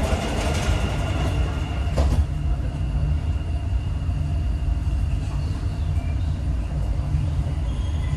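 A Dubai Metro train runs on its rails with a continuous loud low rumble and faint clatter heard from inside the carriage, with no talk.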